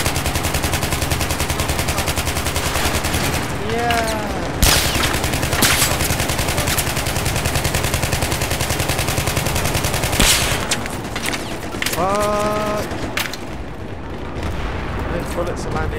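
Gunfire in the video game Battlefield 3 on the Metro map, with sustained loud rapid automatic bursts and explosions close by, broken by brief whizzing sounds of passing bullets and some talk mixed in.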